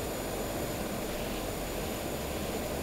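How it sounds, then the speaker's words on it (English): Airplane engine in the flight game Stormworks, a steady droning propeller hum holding even and unbroken throughout, fairly faint with no talk. "Wow, this is a cool plane."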